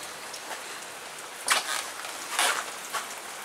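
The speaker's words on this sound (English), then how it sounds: "It's still raining." Rain falls in the US Northwest in a steady soft hiss, punctuated by a few louder surges of pattering drops.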